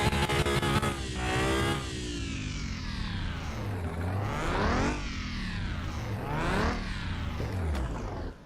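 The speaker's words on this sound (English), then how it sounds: "So there's definitely something in the engine causing it to be a late starter." A car engine running badly in Car Mechanic Simulator 2021 sounds loud and continuous, rising and falling repeatedly in pitch like uneven revving across several surges, with no talking over it.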